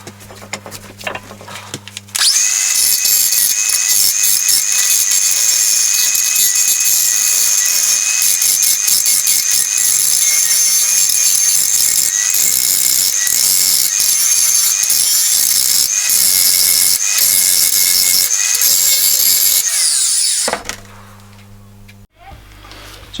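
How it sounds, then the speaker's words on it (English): An angle grinder roughs out the profile of a knife blade in a workshop, one loud continuous high-pitched grinding whine holding steady for about eighteen seconds before cutting off, with quieter handling noise before and after. "what I've done now is just gone around with the angle grinder and roughed in the profile"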